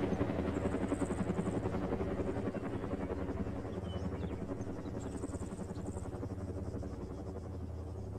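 Helicopters fly overhead in a battlefield setting, a steady rotor thumping and engine rumble holding constant at moderate loudness, slowly easing slightly toward the end with no voices.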